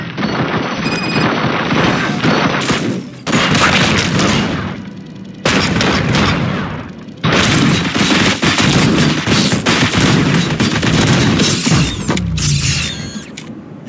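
Loud, dense gunfire in the shooter game RoboCop: Rogue City, rapid continuous bursts with mechanical clatter, broken by a few brief pauses between sustained volleys.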